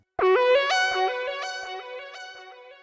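A bright analog synth phrase of stepping notes rings out through a hall reverb effect, each note lingering and blending into a smooth, spacious tail.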